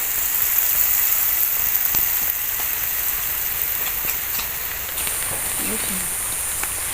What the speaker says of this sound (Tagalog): at naulan na oh